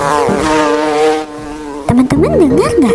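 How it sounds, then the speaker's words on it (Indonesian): A bee buzzes in a loud, steady droning hum for about a second, then fades as a voice begins speaking. "Iya betul, itu suara lebah."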